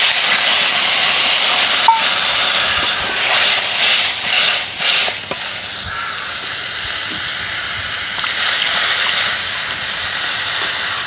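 Water poured into a hot pan of fried bitter gourd sets off a loud, steady hissing sizzle that fills the whole stretch, with a brief surge near the start and no talking.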